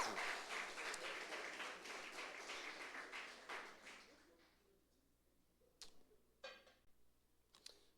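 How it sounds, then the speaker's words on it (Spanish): Church congregation applause during a sermon, a quiet but dense patter of clapping that fades out after about four seconds, followed by a few isolated claps and taps against a low background hum. "Démosle palmas al Señor."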